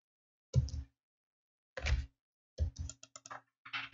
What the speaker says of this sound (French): j'appuie sur la touche Entrée de mon clavier